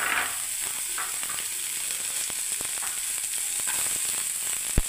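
Soaked chana dal and curry leaves sizzle steadily in a hot pan, a close, crackling fry broken by scraping stirs and a sharp clank near the end, with no voices.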